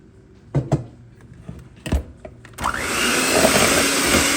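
An electric mixer beats sponge cake batter of whipped egg white and powdered sugar. A few knocks and bumps of the bowl come first, then the motor starts with a loud, steady whirring drone that continues to the end.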